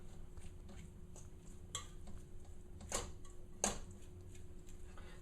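A spoon stirs chili seasoned with garlic powder in a pot, giving faint scattered clinks and scrapes against the metal, with a few sharper knocks standing out over quiet background.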